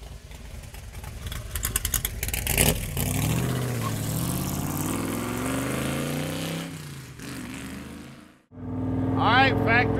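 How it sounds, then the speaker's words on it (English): A Factory Five Shelby Cobra replica with a small-block V8 revs loudly, its engine note rising and falling in sustained pulls, then cutting off briefly before a sharp blip returns near the end. "All right, Factory Five Cobra time. I'll tell you what, this dude sounds fantastic. What a sweet ride. Small block, big horsepower."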